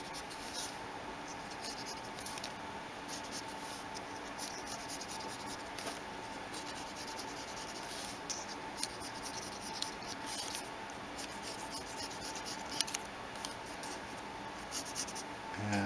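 Steady scratchy strokes of a pen or marker colouring in an origami box-pleating crease pattern on paper, close and continuous with small rubbing scrapes throughout.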